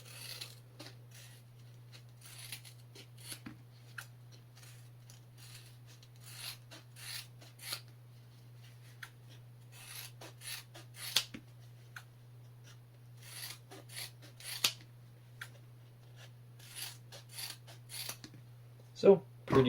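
Trauma shears cut through a piece of seat belt webbing in repeated short, crunchy snips and rasps, coming in uneven bursts close up over a steady low hum.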